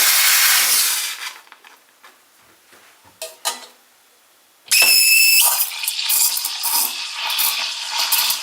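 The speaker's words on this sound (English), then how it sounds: "We already filmed the frothing in advance, and you'll see it's just incredible how fast the machine is." Steam wand on an ECM Synchronika II espresso machine frothing milk: a loud rushing hiss, a short spell of quieter clicks and knocks, then a second strong burst of steam that stays high and slightly uneven to the end.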